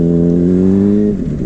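A 600cc super sport motorcycle fitted with a Toast exhaust revs loudly up close, holding a high steady engine note before dropping off near the end.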